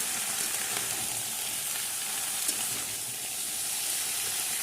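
Mixed winter vegetables are stir-fried in a pan, giving a steady, fairly loud sizzling hiss with faint stirring movements and no talk.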